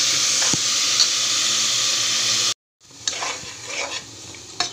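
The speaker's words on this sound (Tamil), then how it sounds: "இப்போ வெங்காயத்தை நல்லா கலர் விட்டுக்கலாம்." Salted onions fry in a pan for beef biryani with a dense, steady sizzle. After a brief cut, scraping stirring strokes and lighter crackle follow, all close and with no talking.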